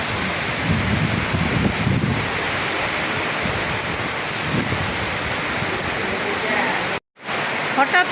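Heavy afternoon rainstorm in Bangladesh pours down steadily as a dense, loud wash of rain with low rumbling gusts, cutting out briefly near the end before resuming.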